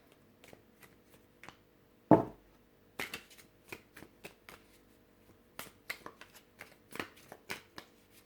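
New glossy tarot cards being shuffled, a run of crisp riffling flicks and slaps in an irregular rhythm with one sharp louder snap early on, close and fairly quiet, with no talking.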